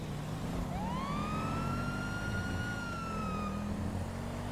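A police car siren in GTA 5 rises into a long, steady wail, clear and fairly close over a constant traffic rumble, with no talking.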